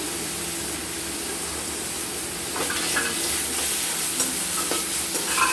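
Chicken pieces are added to a spiced masala and stirred, a steady sizzle under a faint hum, with the sizzling and scraping growing louder about halfway through.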